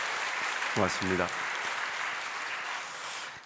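Church congregation applauding during an Easter Sunday service, a steady broadband wash of clapping throughout, with someone briefly speaking over it.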